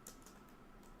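Quick, faint clicks of typing on a computer keyboard, a short burst of several keystrokes heard close and quiet with nobody talking.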